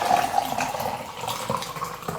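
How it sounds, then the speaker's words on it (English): Celery juice poured into lemon juice, a close, continuous liquid trickle and splash lasting a couple of seconds with no talking. "Next, we add the celery juice."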